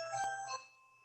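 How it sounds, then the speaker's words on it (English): A doorbell chimes once with a bright two-tone ding that rings out and quickly fades, heard faintly indoors during a home call. "That's my doorbell."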